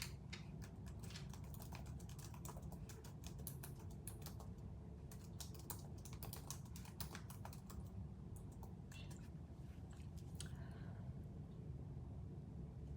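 Close, quiet typing on a computer keyboard in a rapid, irregular run of key clicks over a low background hum, with no voice.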